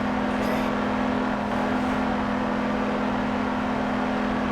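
Lotus car in the Greenville video game during a braking test, giving off a steady, loud engine drone with a constant hum and no speech.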